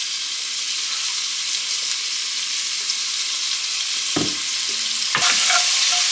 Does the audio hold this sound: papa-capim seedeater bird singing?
no